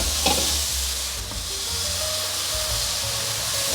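Vegetables with a splash of soy sauce, vegetarian oyster sauce and about 50 cc of water hiss and sizzle steadily in a hot wok, a loud, continuous steamy frying broken by a few clanks of stirring and no talking.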